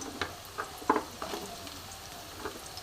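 Diced carrots and papaya frying in a pan, a soft steady sizzle with scattered clicks and stirring scrapes, fairly quiet and without talk.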